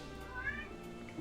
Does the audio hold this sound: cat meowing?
yes